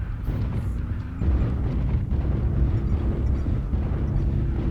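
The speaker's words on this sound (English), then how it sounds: "Artillery strike activated." MechWarrior Online artillery strike: a deep, rumbling barrage of explosions with a sustained low roar that swells after a moment and keeps booming without pause.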